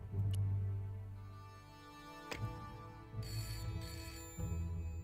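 A telephone rings in the point-and-click adventure game Broken Sword: Shadows of the Templars, Director's Cut, with a steady electronic ring repeating over a low ambient game background, no voices.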